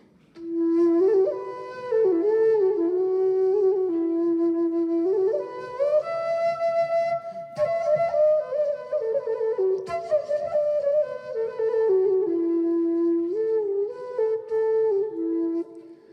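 A homemade flute made from a clean discarded tube with a wine cork plays a breathy melody alone, gliding and bending between sustained notes with soft, airy tone over several phrases.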